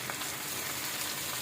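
Sweet pumpkin hitting a frying pan with shrimp, onion and green chilli, giving a steady, dense sizzle of hot oil that stays loud and even throughout, close up and alone.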